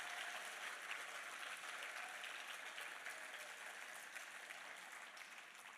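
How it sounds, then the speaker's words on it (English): An audience applauds at an arangetram, an Indian classical dance debut, with steady, even clapping from many hands. It sounds faint and distant and fades slightly toward the end. "Can I have a nice loud round of applause for everybody?"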